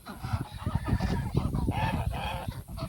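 Large domestic geese, including a white one, honk nearby in a busy run of overlapping nasal calls that keeps going throughout.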